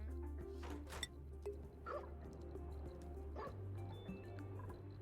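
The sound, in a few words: dog-like barking in video game Oxygen Not Included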